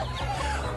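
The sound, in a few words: chicken clucking sound effect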